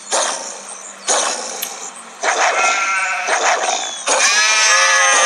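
Goat bleating in The Wolf video game, a series of loud, close, wavering bleats, four separate calls growing longer and stronger, the last one sustained and harsh.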